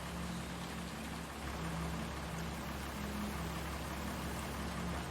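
Steady rain falling in Farming Simulator 19, a quiet, even hiss of drops over a low vehicle drone, continuous and unbroken.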